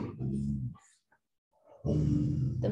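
A dog called Hunter indoors gives a couple of loud, rough barks with a growling edge, the first burst and a longer second one separated by a quiet gap, close to the microphone.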